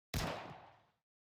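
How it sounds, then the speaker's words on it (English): A lone gunshot in the video game Nikke: Goddess of Victory, one sharp close crack that decays in a short echoing tail within a second, followed by silence. "There's the sound of a single gunshot."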